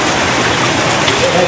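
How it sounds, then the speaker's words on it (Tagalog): Rain falls outdoors as a brief, loud, even hiss of drops pattering across surfaces, with no clear break or change. "Buslik, umulan na, Buslik!"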